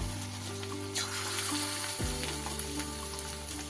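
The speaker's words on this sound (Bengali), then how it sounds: "রাইস ব্র্যান অয়েল আমার বেশ ভালো করে গরম হয়ে গেছে এবার আমি একটা একটা করে চিকেনের টুকরোগুলো" Chicken pieces fry steadily in hot rice bran oil, a continuous close sizzle with a faint mechanical hum underneath and occasional small pops.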